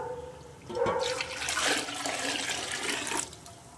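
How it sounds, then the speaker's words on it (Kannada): Water pouring and splashing into a pot for mutton biryani for a few seconds, rising to a steady gush before tapering off. "ಇನ್ನು ಎಂಟು ಲೋಟ ನೀರು ಮಾಮೂಲಿ ನೀರು ಹಾಕೋತೀನಿ ನೋಡಿ"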